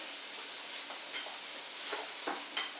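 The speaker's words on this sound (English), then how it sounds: "So I'm cooking the chicken in here, and I'm just really browning it" Chicken browns in a pan for a pot pie, giving a quiet, steady sizzling hiss with a few faint scraping stir sounds and no talk.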